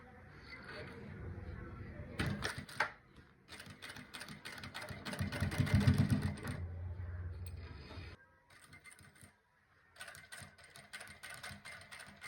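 Electric sewing machine stitching a belt onto an Ankara bubu dress, running in bursts of steady mechanical whirring with short pauses between runs, close and fairly loud.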